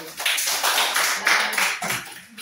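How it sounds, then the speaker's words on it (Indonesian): A short burst of applause from a small group of students in a classroom, hands clapping briskly for about two seconds with no talking. "tepuk tangan untuk kelompok 1"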